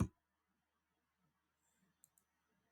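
A computer mouse gives two quick, soft clicks close together near the end, in an otherwise quiet room.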